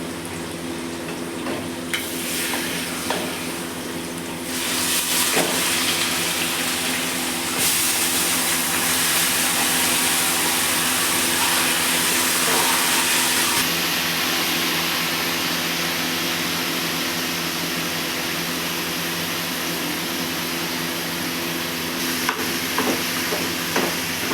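Cumin, onions and tomatoes sizzle in hot oil in a pan, a continuous loud frying hiss that shifts in brightness as ingredients go in and are stirred, with no talking.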